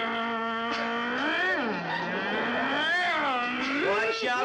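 A voice imitates a car engine, a continuous nasal 'vroom' that rises and falls in pitch across a few seconds, loud and close.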